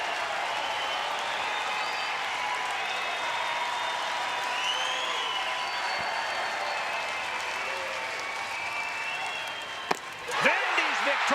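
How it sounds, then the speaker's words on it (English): A stadium crowd at TD Ameritrade cheers and applauds steadily as a College World Series baseball final nears its end, a dense sustained roar that surges louder near the close with sharp shouts. "Now the crowd at TD Ameritrade comes to its feet."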